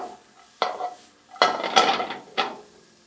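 Broccoli and other vegetables tossed in a hot pan on a stove: three separate bursts of metallic clatter and scraping with a faint sizzle underneath, close by and fairly loud.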